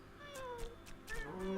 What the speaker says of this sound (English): Damn, look at those cats going.